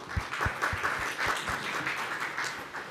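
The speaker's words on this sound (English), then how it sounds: "Let's give a round of applause to Peiyuan" A conference audience applauds a speaker about to present a paper, light scattered clapping from a modest room, fairly faint and steady for a few seconds.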